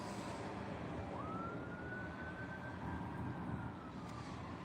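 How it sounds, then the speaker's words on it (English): Sirens pass somewhere outside, heard as a faint, distant, steady wail rising once and holding over a constant background hum, with no one talking. "I don't know where the sirens are going, but they've stopped now."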